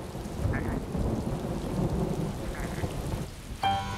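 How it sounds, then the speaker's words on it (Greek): A thunderstorm over a farm brings steady heavy rain on surfaces with low rolling thunder rumbling underneath throughout, and a short sharp sound near the end. "Καταιγίδα, ξεκαταιγίδα"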